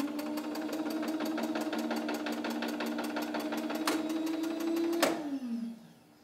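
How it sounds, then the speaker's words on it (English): Spring-charging motor of a medium voltage circuit breaker runs with a steady whirring drone and rapid mechanical ticking, fairly close and unaccompanied, with a sharp clack near the end before it winds down. "I need to charge the motor."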